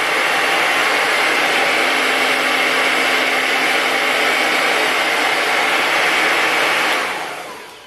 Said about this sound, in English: place it into the diffuser, bring it towards my head, and turn on the dryer